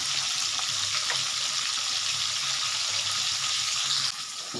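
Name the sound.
fish frying in a pan on the gas stove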